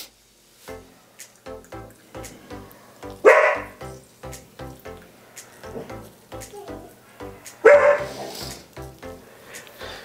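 A dog barks repeatedly in a home kitchen, with two louder, sharper barks standing out among a steady run of nearby yips and woofs.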